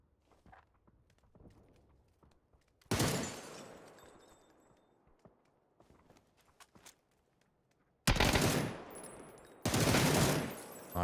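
Loud bursts of automatic gunfire ring out in a PUBG esports match, with one long burst and then two heavy ones later, between quiet stretches of soft footsteps and small game noises.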